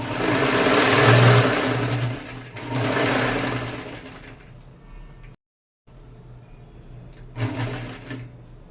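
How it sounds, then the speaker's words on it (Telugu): A sewing machine stitches the edges of a thick doormat made from old cloth, a loud close whirring run that pauses, resumes more strained, and stops briefly. "కొంచెం మందంగా ఉంది కదండి, కొంచెం మిషన్ కదలడానికి కొంచెం కష్టంగా ఉంది."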